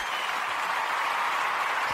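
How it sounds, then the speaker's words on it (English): Steady, dense applause from a podcast audience fills the moment, a continuous broadband patter of many hands clapping at even loudness with no talk over it. "That deserves a round of applause"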